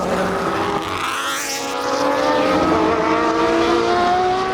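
Supercar Challenge race cars at Zandvoort circuit roar past in a steady, loud engine drone, pitch sweeping upward as they accelerate, with the whine building and overlapping throughout without any talk.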